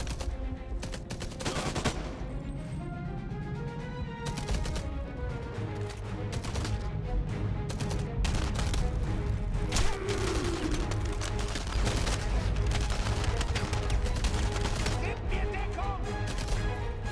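Constant chatter of gunfire in the World War II shooter Enemy Front, rapid overlapping shots and bursts with a heavier grenade blast, heard as a dense, continuous battle din.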